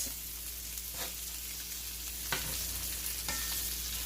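Chicken pieces browning in oil in a frying pan for stroganoff, a faint, steady hiss of frying under a low hum, with a couple of soft utensil knocks and no talking.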